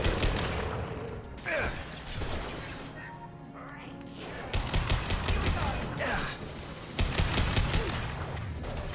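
Gunfire in the video game Mass Effect 2: loud rapid automatic bursts come in several long volleys with short gaps between them, and a voice is heard over the fight.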